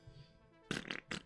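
A fart, two short wet bursts close to the mic after a faint low rumble, loud against an otherwise quiet background.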